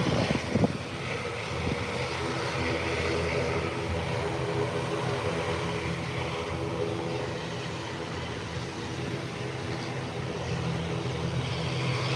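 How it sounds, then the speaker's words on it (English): An ATR turboprop airliner taxis toward the runway for takeoff, heard from inside the cabin as a steady, loud engine and propeller drone with a low rumble that holds evenly throughout. "The ATR is rolling to the runway now for takeoff."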